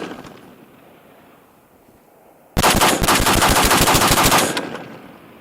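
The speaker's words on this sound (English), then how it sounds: "let's get these first shots just done, right?" Radical Defense MK1 Mod 1 14.5-inch patrol rifle firing its first shots outdoors: a loud, rapid string of sharp reports lasting about two seconds, followed by fading echo after a quiet stretch.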